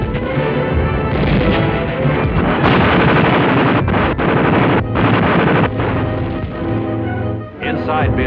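Dense gunfire and explosions from the 1945 Battle of Manila as troops attack toward Bilibid prison, loud continuous bursts of shots and booms in old wartime footage, with wind rumble and possible narration underneath.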